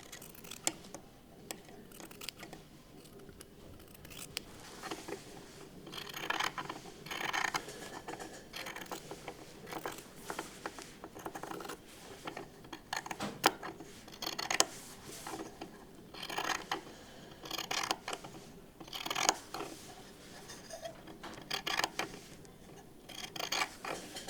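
Scissors trim the seam allowance of a shirt sleeve, giving a string of close, crisp snips in an irregular rhythm with short pauses and no voices.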